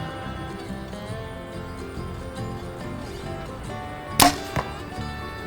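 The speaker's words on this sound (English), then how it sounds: "like most speed bows, this thing makes a thud." A PSE Omen compound bow firing in a backyard, a single sharp thud of the shot partway through followed by a quick second knock, set against a quiet background carrying faint music.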